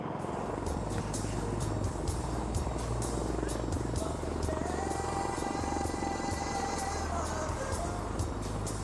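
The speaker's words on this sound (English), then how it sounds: "the Suryakiran is here and will perform a starburst" Suryakiran aerobatic team jets performing a flying display at Aero India, a continuous loud engine roar with rumble throughout, mixed with crowd and public-address noise.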